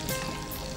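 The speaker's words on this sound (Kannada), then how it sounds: "ಹಾಗೆ ಫ್ರೈ ಮಾಡ್ಕೊಳ್ತೀನಿ" Tomato bath mixture frying in a pan on the stove, a steady close sizzle with soft stirring texture, brief and alone without talk.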